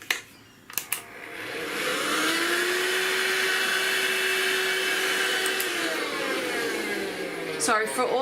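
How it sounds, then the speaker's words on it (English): A Bestec vacuum cleaner switches on after a few clicks and runs with a loud, steady whine while removing pastel dust, then cuts off near the end as a brief voice is heard. "this is Bestec. This vacuum cleaner"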